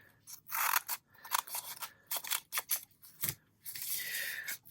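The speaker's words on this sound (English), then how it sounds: "I think I'm going to trim this off already." Scissors trim junk mail paper in a series of close, crisp snips and slicing cuts, irregular bursts separated by short pauses, ending in one longer sliding cut, with no talking.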